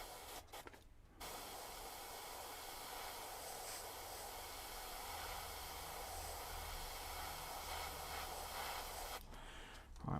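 An air dryer blows steadily across freshly painted Necron miniature bases, giving a continuous broadband hiss that runs almost the whole time, with brief clicks and handling noises at the start and end.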